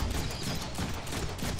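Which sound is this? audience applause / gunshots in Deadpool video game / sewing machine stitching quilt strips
gunshots in Deadpool video game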